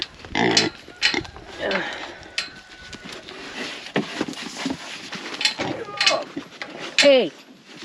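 Pigs on a homestead grunt and oink at close range during morning feeding, with scattered snorts and squeals over clattering, busy farmyard noise.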